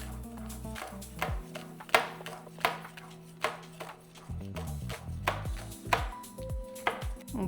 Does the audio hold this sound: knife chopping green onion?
yes